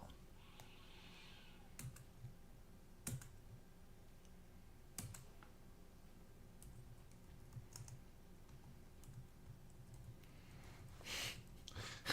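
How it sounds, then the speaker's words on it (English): Light typing on a computer keyboard, soft scattered keystrokes in short bursts with occasional louder clicks, close by and fairly quiet, with brief faint voices now and then. "You're a lighter typer than me."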